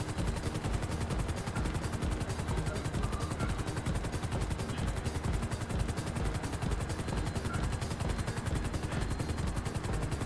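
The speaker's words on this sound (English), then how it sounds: "It's because of this chopper, you know?" A helicopter in the video game GTA drones loudly and steadily from close by, with fast, regular rotor chopping pulsing through the whole stretch and no voices over it.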